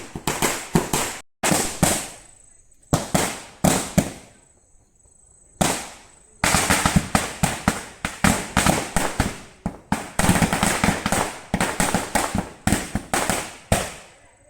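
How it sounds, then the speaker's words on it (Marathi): Rapid strings of firecrackers burst in loud crackling volleys at a Ganpati immersion procession in Konkan, with short pauses between bursts and a long dense run toward the end. "बघा फटाके लावतात"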